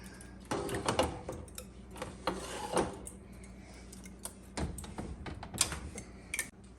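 Baked egg shells, crispy and dry, give small scattered crackles and ticks that pop irregularly at close range, faint and brittle, with brief handling noises between them.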